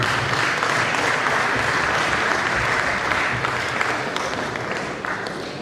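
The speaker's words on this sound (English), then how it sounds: "Let us do it another round of applause" A law week conference audience gives a round of applause, steady dense clapping filling the hall throughout and tapering slightly at the close.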